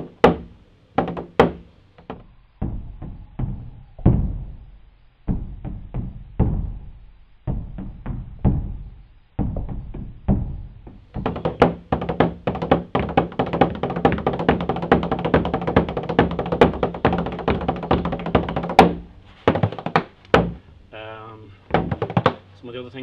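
A hand-played frame drum in triplet patterns, with sparse clusters of close, dry thumps and taps at first, then a denser, continuous run of rhythmic strokes, ending with a few scattered hits.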